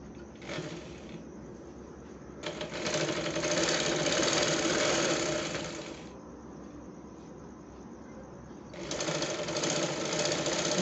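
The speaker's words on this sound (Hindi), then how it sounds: "ये पूरे घेर में ऐसे सिलाई लगा लेंगे एक इंच फोल्ड करके" A sewing machine stitches a one-inch folded hem along a six-panel cotton petticoat in three whirring bursts: a short one, a longer steady run, then another after a pause with a quiet motor hum in between.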